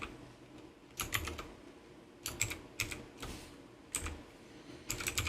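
Code is typed on a computer keyboard in bursts of rapid key clicks separated by short pauses. The clicks are close and fairly quiet, with no talking.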